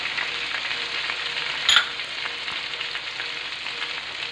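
Onion sizzles steadily in a hot pan while cooking inasal-style chicken in a wfrying pan, a continuous close hiss with a brief sharper crackle partway through as pieces hit the oil.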